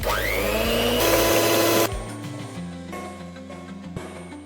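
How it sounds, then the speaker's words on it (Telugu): An electric mixer whirs loudly as eggs are beaten toward a creamy texture for Biscoff cupcakes, a rising motor pitch that steadies, then drops to a lower hum with faint clatter. "ఈ ఎగ్స్ని క్రీమీ టెక్స్చర్ వచ్చే వరకు బీట్ చేసుకుందామండి."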